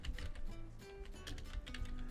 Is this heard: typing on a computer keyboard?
yes